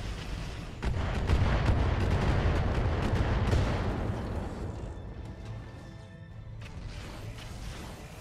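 Long-range weapons fire and blasts in the BattleTech video game, a dense, loud stretch of rumbling booms and crackling impacts that swells early and then thins into a lower, fading roar.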